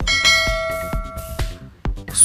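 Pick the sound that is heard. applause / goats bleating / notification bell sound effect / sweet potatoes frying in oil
notification bell sound effect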